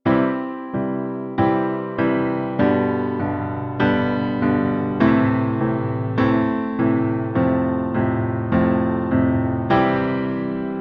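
A piano hand independence exercise sets steady quarter notes in one hand against held half notes in the other, giving an even stream of repeated struck chords with ringing sustain, clear and close with no talking.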